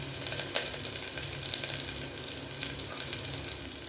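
Shallots and curry leaves fry in hot oil with a dense, steady crackling sizzle heard up close, small pops scattered through the continuous hiss.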